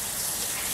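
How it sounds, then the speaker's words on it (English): Tap water runs steadily over raw pork being rinsed in a home kitchen sink, a continuous close splashing gush with no talk. "I'm just going to rinse this off just to get the blood and stuff off"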